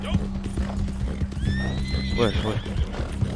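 A horse in the Red Dead Online video game gallops with rapid clip-clop hoofbeats and lets out a loud neigh midway, while someone talks over the game sound.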